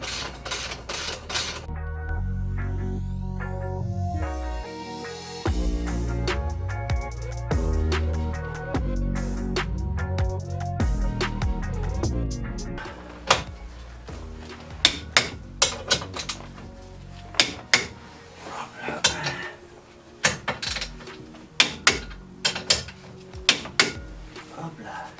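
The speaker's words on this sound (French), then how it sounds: "Là, je suis en train de refixer la barre anti-rapprochement." A lower anti-roll bar being refitted on a Peugeot 407 SW during a repair, with resonant metallic clanks and ringing tool strikes early on, then sharp scattered taps and knocks of tools on metal parts.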